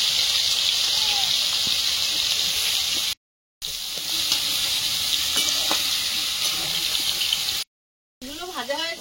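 Malabar spinach stalks frying with shrimp in oil in a pan give a steady, close sizzle that runs throughout, broken by two brief gaps, with faint stirring clinks and no voices over it.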